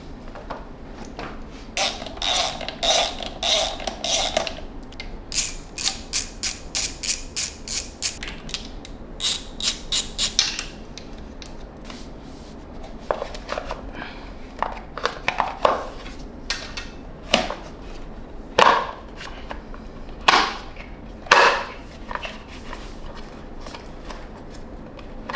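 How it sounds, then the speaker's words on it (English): Bolts being removed from the clutch side of a Beta Xtrainer 300 two-stroke dirt bike: bursts of close ratchet clicking in quick rhythmic runs, then scattered metallic clicks and creaks from the tool and fasteners, with no talking. "we're gonna go ahead and remove our bolts"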